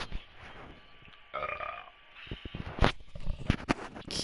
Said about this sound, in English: I have to burp again.